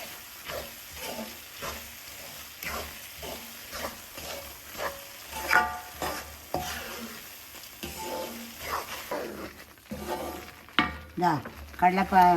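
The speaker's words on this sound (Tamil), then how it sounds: "கடலை மாவு நல்லா வறுத்தாச்சு." Gram flour dry-roasting in a pan while being stirred for barfi: a soft, continuous scraping and faint sizzle with rhythmic spatula strokes, fairly quiet, with a person speaking intermittently over it.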